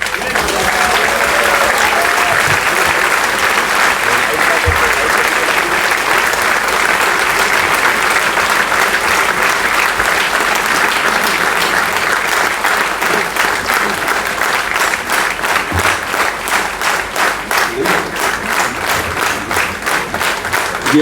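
A large audience at an awards ceremony applauds Amitabh Bachchan in a dense, sustained roar of clapping that stays loud and continuous throughout, thinning slightly toward the end.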